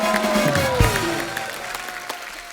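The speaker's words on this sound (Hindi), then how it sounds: "जोरदार तालियां।" Studio audience on a Hindi comedy show breaking into loud, dense applause that fills the room, close and steady, with a brief tone sliding down underneath early on.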